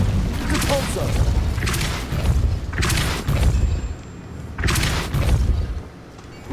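Repeated Depulso repelling spells cast in a Harry Potter video game, heard as several loud booming bursts in a steady rhythm, each a deep thudding blast, with game sound and voices mixed in between.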